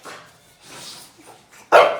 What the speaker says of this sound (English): So I feel like he barks because he's excited.